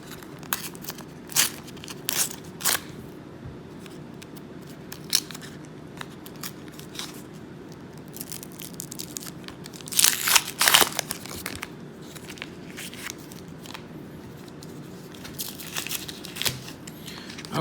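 Foil sticker packs of MLB stickers being torn open and crinkled by hand, with sharp tearing bursts and papery crackles scattered across the stretch, the loudest flurry near the middle, no talk.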